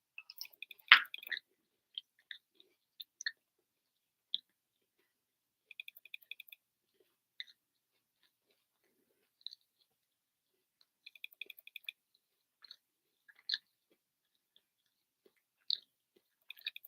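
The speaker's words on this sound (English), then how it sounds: "the reason why I'm chewing like this is because I got my wisdom teeth removed" Someone eats French toast after wisdom teeth removal, producing soft, wet chewing and mouth clicks in short irregular bursts, close and quiet, with silent gaps between them.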